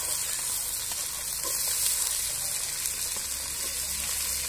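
Potato and bean pieces fry with onions in an oily pan, a loud, even, continuous sizzle close by with faint stirring and no talking.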